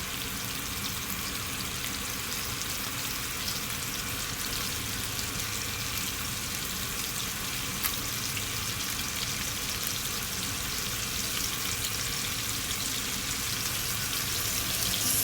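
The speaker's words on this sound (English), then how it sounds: "I'm gonna add the carrots and the beans because these needs to be fried properly as well" Carrots and beans frying in a pan, a constant broadband sizzling hiss held at an even level from start to finish, close and uninterrupted, with no other sounds on top.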